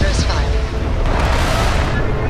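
Retro thrusters on a spaceship firing during a landing in Starfield, a loud sustained roaring burst with deep rumble that swells and holds, a voice speaking over the start.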